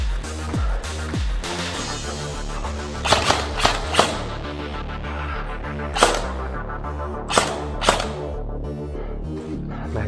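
Suppressed gunshots from a Delta Armory AR15 DMR rifle, a handful of sharp single cracks spread irregularly across the span, moderately loud over a constant low mechanical hum.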